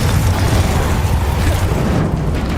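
A Confringo fire-spell explosion in Hogwarts Legacy, heard as a dense, loud booming rumble that fills the whole stretch and eases slightly near the end, amid ongoing combat noise.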